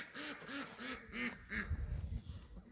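Pet ducks in a backyard flock quack in a steady series of about six nasal calls, close and fairly loud, followed by lower, rougher murmuring from the group.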